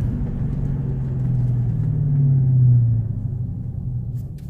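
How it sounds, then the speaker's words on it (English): A Dodge Charger Daytona 392 V8 idles and rumbles steadily up close, the low engine drone swelling a little around the middle before easing back, with no talk over it. "Listen for the engine."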